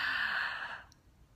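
A long, deep breath drawn in during a calm relaxation exercise, a soft airy rush lasting nearly a second before fading into quiet, close and alone with no talk.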